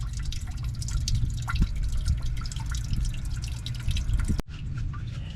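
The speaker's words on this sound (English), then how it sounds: "Just a little drips left" Coolant-system flush water draining from an engine's drain plug during an overheating repair, a steady close trickle with scattered drips, then a sudden cut to a quieter, thinner dribble near the end.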